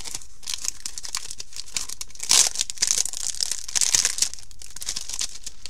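Paper being handled at close range during a one-sheet mini album craft session, with crisp crinkling and rustling in irregular bursts, a few louder crackles and tears standing out.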